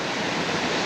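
Fast water released from a dam rushes down a canoe slalom course in a loud, dense, unbroken roar, close by and filling the whole moment.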